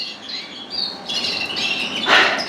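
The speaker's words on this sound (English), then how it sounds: "Plenty of young canaries and a few natives all coming through." Young canaries and a few native birds calling in a birdroom, a busy mix of high chirps, squawks and tweets, overlapping and close, growing louder toward the end, no talking.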